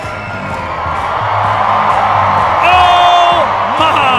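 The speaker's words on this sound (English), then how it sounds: "listen to how loud this place is about to get. Oh, they're clapping!" A loud crowd cheers and claps at the Albuquerque Isotopes ballpark during a Banana Ball game. The noise swells into a dense roar, with whoops and a sustained high shout rising above it near the end.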